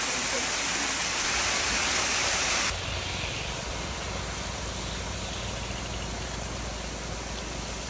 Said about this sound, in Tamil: மழையே பெய்யுது.